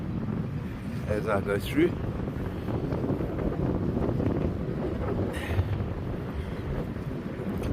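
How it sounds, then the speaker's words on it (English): Wind buffets the microphone while riding up toward a seaside pinnacle as the tide drops, a steady rumbling roar with someone talking over it. "You can hear the wind now."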